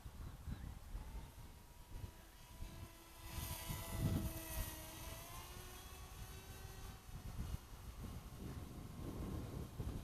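A small ZOHD Nano Talon RC plane buzzes overhead, its faint electric motor whine rising and falling in pitch as it passes and turns, with wind noise around it.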